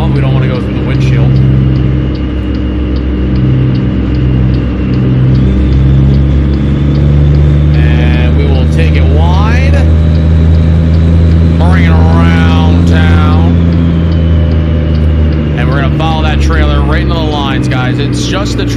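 A truck engine in American Truck Simulator drones with a steady, loud low rumble throughout, while someone talks over it.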